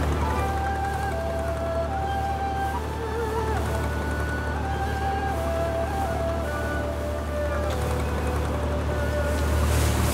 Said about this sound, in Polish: O, to jest sampan właśnie, taka mała łódka